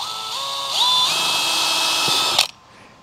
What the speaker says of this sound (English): So now let's drill those holes in the bottoms there